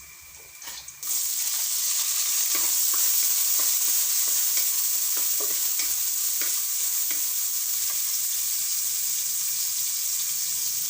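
Onions hit the hot oil of a frying pan for a ginataang kalabasa with crab and flip into a loud, steady sizzle, with faint stirring clicks ticking through the hiss.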